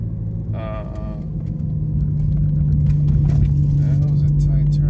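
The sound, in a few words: 2018 Ford Focus ST engine revving while driving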